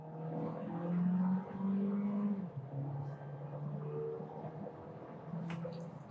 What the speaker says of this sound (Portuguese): Vamos estolar, olha lá, o giro subindo, pressão do turbo saindo.